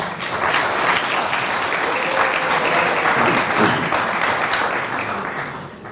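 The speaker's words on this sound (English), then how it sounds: "give them a mighty applause" Sustained applause from a large audience at a gala dinner, steady and dense for several seconds before tapering slightly at the end.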